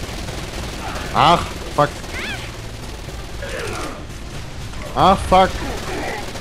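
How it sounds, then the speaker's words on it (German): Enemy gunfire in the video game Saints Row: Gat out of Hell, bursts of shots rattling amid game noise while a man swears over it. "Die schießen auf mich."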